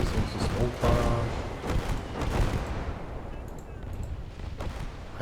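Smoke barrage artillery fire in the Gates of Hell video game sounds as dense, continuous booming and crackling gunfire, loud and close at first and then thinning into a rumbling distant roll, with a voice speaking over it.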